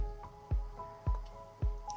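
Water goes into a pan of soybean and potato curry in three evenly spaced, close, wet splashing glugs, with nothing else heard.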